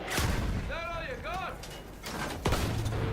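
Tank cannon blasts aimed at a land ship's tracks in Battlefield 1, two heavy booming shots with a whistling, warbling sound between them, set amid battle noise and game voices.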